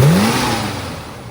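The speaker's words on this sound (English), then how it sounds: "revs up, runs great" A restored 1965 Ford Mustang A Code fastback with matching engine and manual transmission, revving sharply at the start and then settling back, loud and close with no talk.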